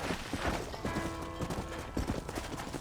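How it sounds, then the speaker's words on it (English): Horse hooves clip-clop in the Red Dead Redemption video game on PS4 as a rider heads toward a ranch stable, steady rhythmic steps under a busy game soundscape with no talk. "Hit your horse and wait for me by the stable."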